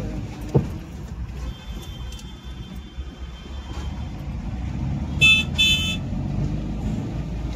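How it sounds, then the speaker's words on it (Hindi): Trucks and traffic rumble along a highway at night near a CNG pump queue, a continuous low road noise with a couple of short horn toots near the end. "ये देखो कैसे आ रहे ट्रक, कितना ट्रैफिक चल रहा है।"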